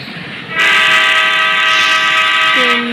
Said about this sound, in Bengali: ট্রেন নিজের হপু বাজাচ্ছে,